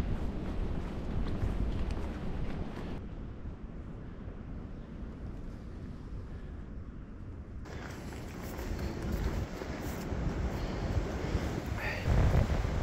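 Wind buffeting a microphone on the open summit of Blood Mountain along the Appalachian Trail, a steady low roar that eases in the middle and returns stronger with gusts toward the end, with no voices.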